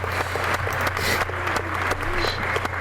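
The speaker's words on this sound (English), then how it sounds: "There they are, all clapping in the background." Studio audience clapping on a game show, a short burst of steady applause sitting behind a low hum and brief murmurs.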